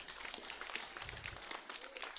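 An audience at a Sacco annual general meeting claps, a brief patter of scattered hand claps heard faintly from a distance in a hall.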